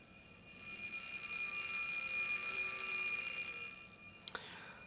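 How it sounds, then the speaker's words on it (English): A thin, high-pitched mechanical buzzing ring from a Jaeger-LeCoultre Reveil mechanical alarm watch sounds continuously for about three seconds, then stops, followed by a couple of small clicks. "it will trigger the alarm"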